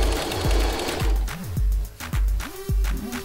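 Singer oscillator sewing machine stitching, a close mechanical whir with regular clattering needle strokes at a brisk steady rhythm, briefly changing pace near the end, no voices.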